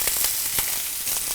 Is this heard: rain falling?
no